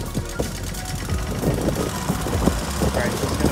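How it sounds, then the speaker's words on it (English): A lawn mower engine runs near at stock spring tension, a steady rough chugging drone with knocking pulses throughout, and someone talks over it. "we're going to show you how fast the mower goes"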